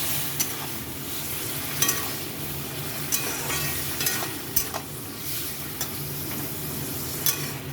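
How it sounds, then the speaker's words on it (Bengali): Fried mushrooms are stir-fried in a pan for chilli mushroom, a continuous sizzle under regular scraping and clinking strokes of a spatula, close and alone. "এখন এটা আমি খুব ভালো করে কষাবো।"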